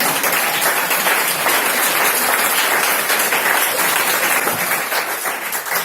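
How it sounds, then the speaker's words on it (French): An audience applauds during a French-language gospel program, a steady, dense wash of clapping that holds for several seconds and thins slightly at the end. "vous pouvez acclamer pour cette question."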